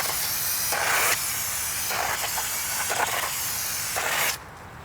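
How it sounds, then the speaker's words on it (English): Brake cleaner sprayed onto a new brake rotor for a 2004-2013 Mazda 3, several hissing aerosol bursts of varying length against a steady noisy background, with a quieter tail at the end. "So you want to take some brake clean and just spray both sides down."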